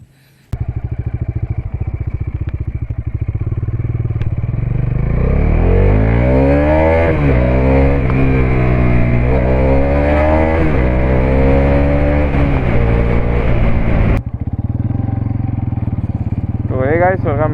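Bajaj Dominar 400 motorcycle with a 373cc engine idling loudly up close, then revving repeatedly in rising and falling sweeps before settling back to a steady idle.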